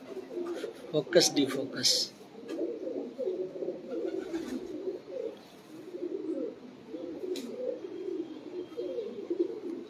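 A domestic pigeon kept for pigeon-flying coos in low, steady rolling phrases throughout, moderately close. Someone talks briefly at the start, and a few soft clicks sound near the beginning.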